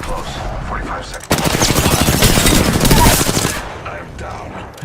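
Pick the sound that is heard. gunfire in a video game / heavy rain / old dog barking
gunfire in a video game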